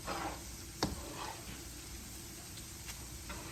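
Garlic frying in hot oil until crispy, a steady soft sizzle and hiss throughout with one brief clink near the start.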